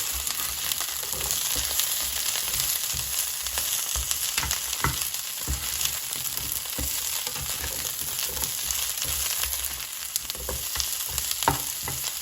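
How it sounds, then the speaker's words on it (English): Steady oily sizzling of Brussels sprouts frying in a pan, with occasional scraping and stirring clatter throughout, close and continuous. "now the oil is sizzling, so let me just stir the Brussels sprouts"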